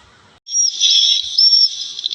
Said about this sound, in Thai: เสียงนกนางแอ่นนะครับเนี่ย